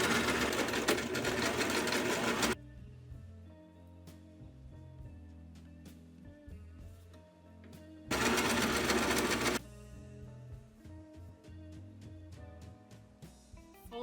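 A sewing machine stitches along the folded seam of a tinsel hat, loud continuous whirring in two bursts separated by quieter fabric handling and rustling, with no talk.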